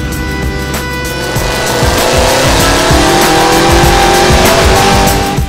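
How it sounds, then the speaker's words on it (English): A big Mopar V8 running through an H-pipe exhaust, loud and close, with a deep throaty roar that swells as the engine revs up and holds a heavy sustained drone. "These big motors really needed that deep rumble that an H-Pipe provides."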